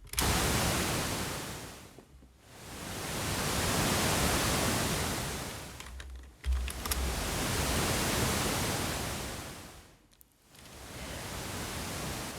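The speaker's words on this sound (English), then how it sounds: "Like you have kind of a noise sweep and then bam, like that drop" Broad pink noise swells and fades in repeated sweeps, each wash rising then dropping away in short gaps, steady and fairly loud with no voices.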